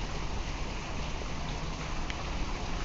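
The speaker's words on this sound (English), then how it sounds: "And a waterfall, hence the noise." Indoor waterfall at a restaurant entrance beside a fish pond, a soft continuous splashing hiss, steady and moderately close with no speech.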